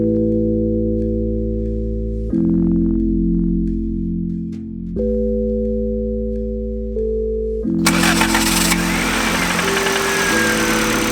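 Turbocharged Honda Civic engine with a steady, loud idle and strong low harmonic hum, the pitch shifting in a few distinct steps, then a harsher, noisier rise near the end; no talking.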